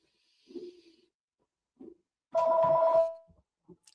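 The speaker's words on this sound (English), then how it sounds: "There's a phone going off." A telephone rings once in a steady burst lasting under a second, loud and close, with a few faint breathy or shuffling sounds before and after it in an otherwise quiet room.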